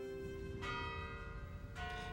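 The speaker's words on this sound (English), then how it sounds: "if you can hear the bells of St. Michael's, you know you're in Old Town" Church bells of St. Michael's in Chicago's Old Town ring out in a sustained, resonant peal, with fresh strikes around the middle and near the end layered over a humming ambient background.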